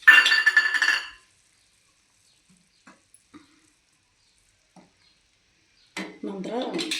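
Grated coconut tipped from a bowl into a pan while making rave unde makes a bright clatter of dishes for about a second. Near-silence follows with a few faint taps, then a voice speaks over light kitchen clinks.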